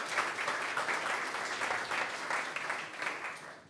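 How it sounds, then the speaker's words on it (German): Brief audience applause after a business talk at an enterprise club day event, a fairly soft, even clapping from a seated crowd that rises slightly and tapers off toward the end. "Dafür hätte ich gern von Ihnen nochmal einen kurzen Applaus."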